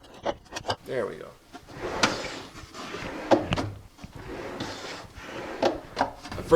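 A wooden drawer on a drill press cart scrapes and rubs along its drawer slides in a workshop, producing a string of uneven sliding knocks and rasps with short pauses between them.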